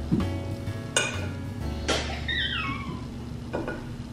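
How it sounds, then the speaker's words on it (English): A knife spreads peanut butter and honey onto bread, giving a few sharp clinks and scrapes against a jar or plate, spaced about a second apart, close and fairly clear with no talking. "Spread the peanut butter and honey together on a piece of bread very smoothly."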